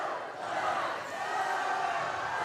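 A high school student section roars and chants at a varsity volleyball match between South Tama and Williamsburg, a dense, sustained crowd cheer filling the gym without a break.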